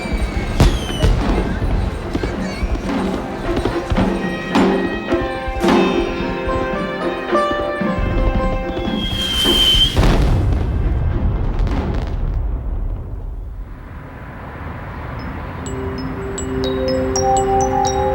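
Diwali fireworks over New Delhi burst in repeated booms and crackles with whistling rockets, loud and layered, fading into a quieter tail with a musical tone.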